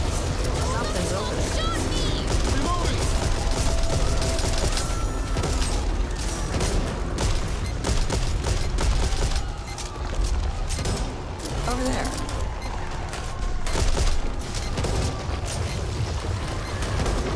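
Gunfire rattles through a dense, loud mix of explosions and booms in the co-op zombie shooter Back 4 Blood, with bursts scattered throughout under frequent shouted talk from players.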